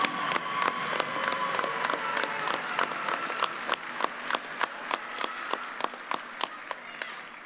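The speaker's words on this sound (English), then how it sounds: "Yes, let's keep on cheering." Graduation commencement audience applauding in a large hall, a dense wash of clapping with a steady rhythm of sharp individual claps standing out near the microphone, without talk.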